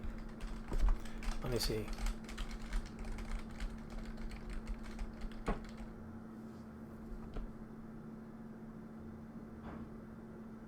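Computer keyboard typing picked up faintly over a live stream, a run of soft irregular clicks under a low steady hum, with a brief spoken remark and then quieter background tone.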